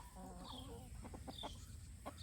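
Backyard chickens clucking softly while pecking at pulled garden weeds, a few short close clucks and murmurs over a quiet outdoor background.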